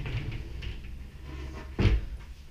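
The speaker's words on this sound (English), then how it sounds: "This bedroom has a wardrobe with 2 slide doors" A sliding door on a bedroom wardrobe in a rental apartment opens or closes once with a short, close rolling thump near the end, following quiet room tone.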